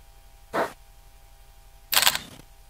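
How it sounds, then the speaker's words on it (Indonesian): A Fujifilm X-T3 camera under repair for a shutter error fires its shutter in continuous high mode, heard as two short, sharp mechanical bursts about 1.4 seconds apart, close and clear against quiet. "kita pakai shutter CH ya"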